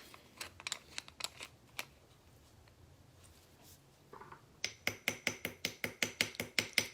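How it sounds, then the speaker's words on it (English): Small ball peen hammer texturing a metal necklace blank, a series of sharp metallic taps, scattered at first and then a steady quickening run of about a dozen close, ringing strikes. "since we're sticking with texture, I think I might ball peen around"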